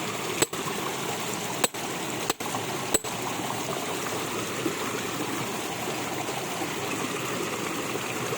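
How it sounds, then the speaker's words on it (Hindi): Steady rain falls on an outdoor work site, a continuous even hiss of water that stays constant throughout, broken by four short sharp clicks early on. "फिर देखिए बारिश होना शुरू हो गया।"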